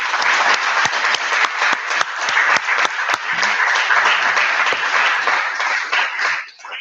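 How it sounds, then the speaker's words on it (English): Audience applause closing a talk with author Andy Weir: dense, steady clapping from a crowd, loud and sustained for several seconds before tapering off at the end. "So final round of applause."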